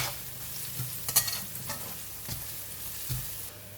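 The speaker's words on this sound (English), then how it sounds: "We're going to fry the garlic until brown and crispy." Garlic frying in oil in a pan sizzles softly and steadily, broken by a few stirring scrapes and light clinks of a utensil against the pan.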